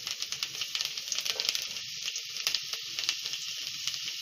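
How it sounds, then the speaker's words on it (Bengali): Chopped garlic sizzles in hot oil, a close, bright hiss with small popping bursts that carry on steadily with no one talking. "প্রথমে আপনি রসুন কুচোটা তেলের মধ্যে ছেড়ে দেবেন"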